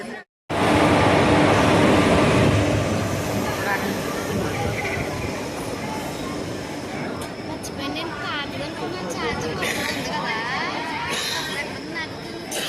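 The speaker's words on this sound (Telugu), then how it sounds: "ఎలాగోలాగా రైల్వే స్టేషన్కి అయితే వెళ్ళాము" A train rumbles steadily and loudly at a railway station, with a sharp start after a brief silence and voices talking over the continuous noise.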